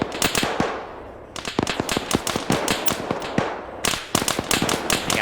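Rapid machine gun fire from a video game urban firefight in a Middle Eastern town, with dense bursts of sharp cracking shots in several long volleys separated by brief pauses, loud and close.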